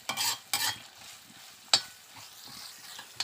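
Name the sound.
stirring onions frying in a pan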